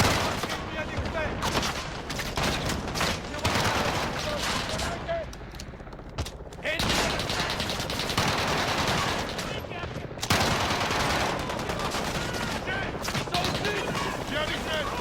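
Dense, sustained machine-gun bursts and scattered explosions fill a Call of Duty Modern Warfare battle, loud and nearly continuous with brief lulls, while soldiers' voices shout over the gunfire.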